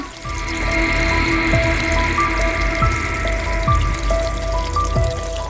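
A cartoon tap runs with water going to waste, making a steady, fairly loud rushing flow that holds for several seconds, with faint tonal sounds alongside.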